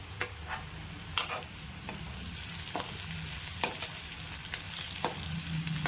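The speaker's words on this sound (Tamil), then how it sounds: "வாழைக்காய் வந்து கேஸு கொஞ்சம் பெருங்காயம் போட்டு நல்லா வதக்கணும்" Raw banana sautéing with asafoetida in a pan gives a soft continuous sizzle, with occasional crisp scrapes and knocks of a spatula as it is stirred, close up and quiet.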